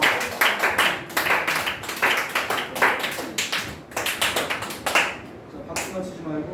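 A church congregation at a Sunday worship service claps for a member's birthday, a scattered burst of hand claps that thins out toward the end, with voices talking over it.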